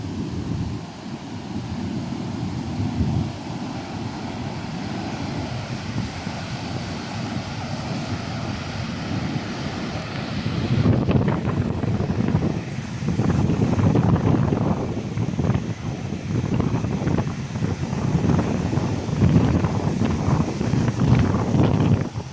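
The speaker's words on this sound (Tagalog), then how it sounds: "Oh, grabe yung alon na yan, o." Crashing ocean surf and roaring storm wind from Typhoon Uwan fill the air, a continuous heavy rumble that swells louder about halfway through as bigger waves break.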